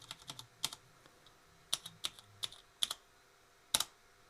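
Someone types on the keyboard of a MEGA65 dev kit computer: sharp, close clicks come in irregular bursts and single strokes, some much louder than others, with quiet gaps between them.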